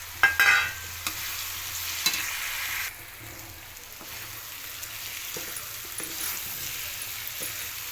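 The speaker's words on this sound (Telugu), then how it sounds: "ఉప్పు వేసి ఫ్రై చేయాలి" Cabbage and potato fry in a pan with salt, a soft continuous sizzle broken by scraping stirs of a spatula against the pan, faint and close.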